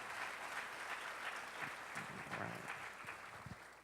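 Audience applauding Mayor Newton at a Dr. Martin Luther King Jr. Day celebration, continuous full-room clapping at moderate distance, steady throughout with some individual claps popping out toward the end.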